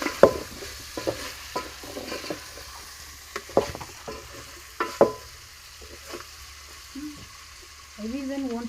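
Onions cook in a pan with a soft, faint sizzle, broken by intermittent spoon taps and stirring scrapes. A voice speaks briefly at the end.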